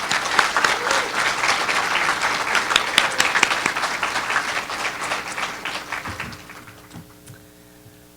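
A crowd claps for the honorees at the Leadership Kitsap "20 under 40" celebration, a loud and sustained burst of applause that thins out and fades near the end as a few last claps trail off.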